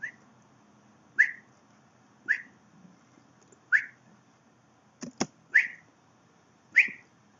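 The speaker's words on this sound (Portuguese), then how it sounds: "você pode falar ou assobiar ou assoprar no microfone também, que ele vai atirar" Someone whistles into a microphone to make a character in a Scratch game shoot: a series of short, sharp rising whistle chirps spaced about a second apart, close and clear, broken by a couple of abrupt thumps.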